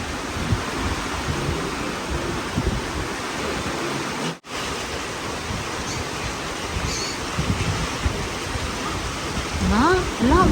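Heavy rain pours over flooded rice fields in the countryside, a steady broadband hiss filling the whole clip with a brief dropout midway, and a voice briefly rising near the end.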